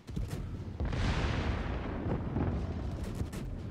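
Warship Salem fires a broadside in World of Warships, a loud sustained roar of heavy naval gunfire with rumbling booms layered over continuous battle noise, with no talk.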